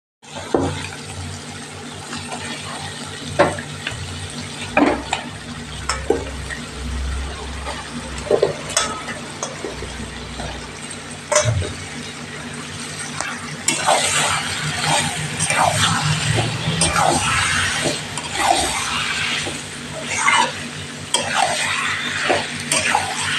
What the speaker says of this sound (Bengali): মাংসটা কষা ভালো করে কষিয়ে নেব